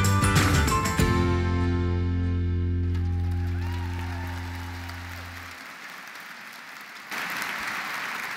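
Applause from an audience at a volunteer orientation, starting over fading musical chords and dense at first, then thinning as the music dies away, with a renewed burst near the end.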